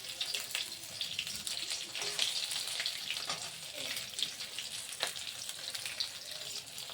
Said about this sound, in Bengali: চেপে চেপে ভাজলে পরে মুচমুচে হবে, খেতে ভালো লাগবে।